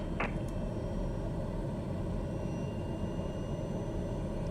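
A TBM930 turboprop taxis in Microsoft Flight Simulator 2020, a steady low engine drone with a faint high whine, loud and unbroken, with a brief click near the start.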